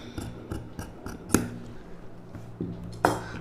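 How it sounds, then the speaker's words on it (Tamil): Scissors snip through silk saree blouse fabric in a quiet, close series of irregular crisp cuts, with a few sharper clicks of the blades. "இந்த ஷேப் அப்படியே கட் பண்ணி எடுத்துக்கலாம்."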